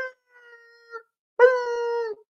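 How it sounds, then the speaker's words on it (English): A hound dog howls in two drawn-out phrases, a softer wavering call followed by a louder, sustained howl, heard alone and fairly close. "Wait, that's a hound dog."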